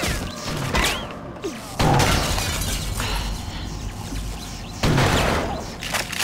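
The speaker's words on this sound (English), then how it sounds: "Because you can just break through the glass." In the BloodRayne video game, control room glass is broken through, giving sharp shattering crashes around two and five seconds over a busy backdrop of mechanical clanks and game noise.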